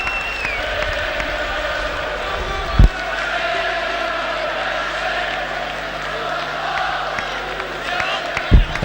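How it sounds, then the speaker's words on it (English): A delighted Wigan rugby league crowd at the Premiership final against Warrington sings and cheers in a continuous distant roar, with a few sharp thumps and a commentator's voice heard over it. "A highly delighted Wigan crowd singing their heads off in the background"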